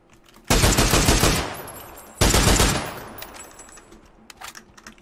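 Automatic gunfire in PUBG: two loud, close bursts of rapid shots, the second trailing into a fading echo with a few faint clicks after.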